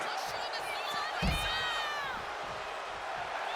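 A crowd cheering in the WWE 2K26 video game, a steady roar of fans under a commentator's voice, with a sharp thud partway through and whistling tones above.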